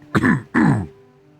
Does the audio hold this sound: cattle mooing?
no